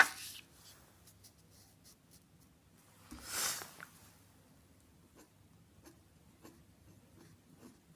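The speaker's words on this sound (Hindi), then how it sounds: "चलिए रिएक्शन लिख लेते हैं, समझ में आ जाएगा कौन सी गैस मिलेगी।" A chemical reaction is written out by hand for a chemistry lesson: faint scratchy pen strokes come in short irregular bursts, with one louder rubbing stroke partway through and no speech.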